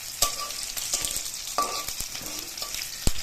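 Cabbage frying in a pan, a steady close sizzle with repeated sharp scraping and stirring strikes from a spatula scattered throughout.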